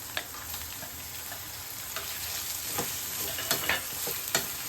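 Tomatoes and onions with ginger garlic paste sautéing in a pan for a mutton bone soup: steady close sizzling with scattered clicks and scrapes of a stirring spoon, alone with no talking.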